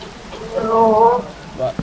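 Rain falling in the Minecraft video game makes a steady soft hiss, and a brief tonal, voice-like sound rises over it in the middle.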